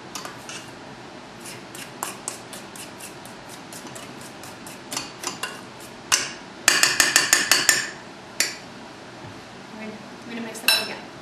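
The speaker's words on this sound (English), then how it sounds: "I'm going to scrape the sides of the bowl" Batter for a brown sugar cinnamon loaf is scraped from the sides of a mixing bowl, giving a run of light, close clinks and scrapes in quick uneven bursts over a soft background.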